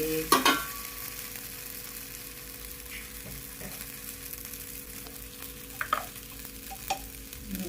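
A chickpea dosa fries in ghee on a pan with a soft, continuous sizzle, broken by a few scraping stirs and spatula knocks, close by and with no talk.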